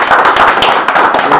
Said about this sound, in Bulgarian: аплодисменти за това